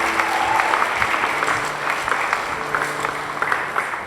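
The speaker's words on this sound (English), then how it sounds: "Can everyone please give Ben a huge round of applause?" A crowd at an album launch gig applauds a performer after his set, with steady, dense clapping and faint cheers sustained throughout and a low hum beneath.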